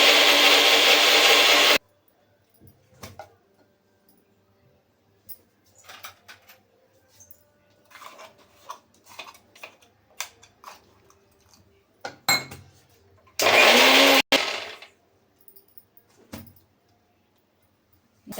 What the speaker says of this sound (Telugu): ఇప్పుడు మరి మెత్తగా మిక్సీ పట్టుకోవాలి.